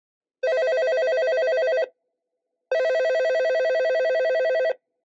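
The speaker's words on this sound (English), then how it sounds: "C, a phone ringing." Two long bursts of a telephone bell ringing, each about a second and a half, separated by a short silence; loud, clear and alone with no voices.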